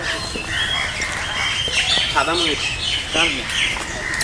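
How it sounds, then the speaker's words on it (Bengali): A white peacock at Mirpur zoo gives a few loud, nasal wailing calls in short bursts, heard close by amid people talking and chatter from other birds. "আমরা এখন ময়ূর পাখি দেখি এটা সাদা ময়ূর"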